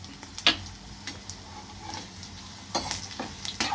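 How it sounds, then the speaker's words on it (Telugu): Curd rice seasoning frying in hot oil until crisp, a steady low sizzle with sharp ticks and clinks of a spoon against the pan, no voices. "పచ్చి స్మెల్ పోయేదాకా వేయించుకొని కొంచెం క్రిస్పీనెస్ కనిపించిన తర్వాత తీసి మనం అందులో కలిపేసుకోవాలన్నమాట"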